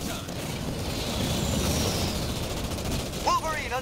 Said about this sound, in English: Wolverine under fire from enemy vehicles.